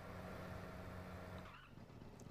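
A car drives along in a Kirby video game, a steady engine hum with faint tire noise that fades toward the end, quiet and without talk.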